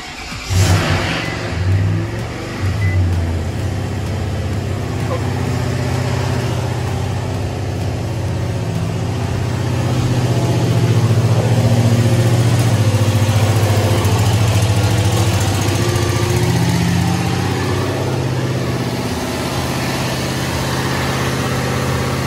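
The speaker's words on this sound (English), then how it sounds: "so here's the first startup on the truck" Nissan Titan truck engine starting for the first time after reinstallation, then settling into a steady, moderately loud idle with slight fluctuations, heard up close in a workshop with no talking.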